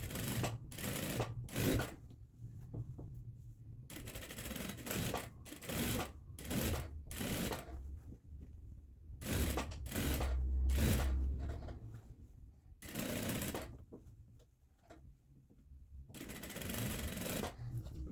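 A sewing machine topstitches a finishing seam close to an earlier line on a três Marias dress, running in short repeated bursts separated by quiet pauses.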